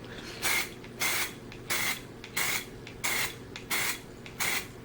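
Spray paint is applied in a first coat to a phone casing: about seven short, even hissing bursts repeat in a steady rhythm, close but fairly quiet, with no talking.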